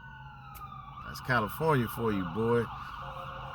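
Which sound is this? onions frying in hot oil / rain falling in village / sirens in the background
sirens in the background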